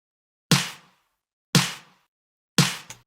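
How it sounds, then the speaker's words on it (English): Three sharp, punchy snare-and-clap hits, evenly spaced about a second apart, each with a short bright tail, the last followed by a quick echo. "This one's like a combination of a snare and a clap."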